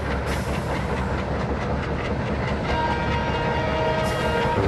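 A WDM3D diesel locomotive in an Indian train simulator game runs steadily, its loud engine drone and rolling wheel noise continuous throughout, with a thin tonal whine rising in the second half.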